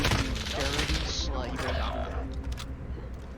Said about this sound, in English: He's shooting me in the back right here